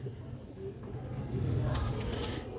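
Sialkoti breeder pigeons coo with soft, low, throaty calls that are repeated throughout and sit over steady background noise.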